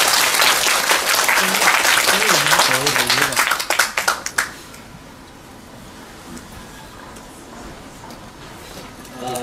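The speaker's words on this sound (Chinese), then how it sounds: "现在让我们以热烈的掌声欢迎钟教授。" Warm applause from a university lecture audience welcoming a professor, a dense burst of clapping for about four seconds that thins into scattered claps and then fades to quiet room tone.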